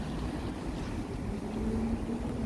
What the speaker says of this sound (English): there they go driving it right now